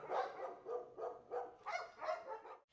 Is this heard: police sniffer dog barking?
yes